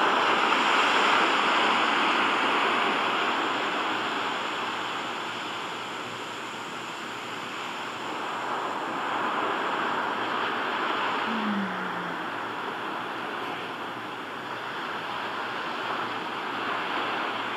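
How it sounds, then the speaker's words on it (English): Steady ocean surf from a white-noise app roars continuously with waves gently swelling and fading, a broad even wash of sound with no voices. "the last thing that I listened to was Ocean Waves Crashing."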